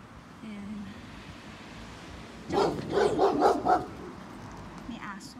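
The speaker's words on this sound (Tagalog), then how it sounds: "Oh, lakas ng tahol." A large dog barks loudly from a residential yard in the Netherlands: a quick burst of about five sharp barks midway, over a quiet outdoor background.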